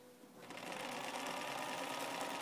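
A Bernina sewing machine stitching a pioneer bonnet starts up and runs in a steady, fast, close mechanical whir with a continuous rapid needle rattle.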